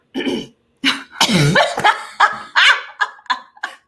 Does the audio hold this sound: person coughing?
yes